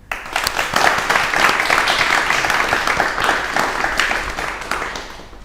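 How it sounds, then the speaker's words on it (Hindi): Students in an audience break into loud, sustained applause at the opening of a Rajasthan judicial services preparation session, dense clapping holding steady for several seconds before tapering at the end. "हमारे स्टूडेंट्स जो हैं वो ज़ोरदार तालियों से स्वागत करें खुद का और हमारे मेहमानों का"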